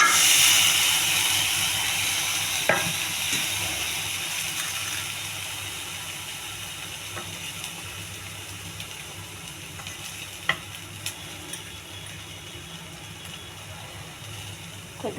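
Sprouted chickpeas and cowpeas sizzle in a hot tempering, a steady frying hiss with occasional stirring clicks, loud at first and gradually settling, with no voices.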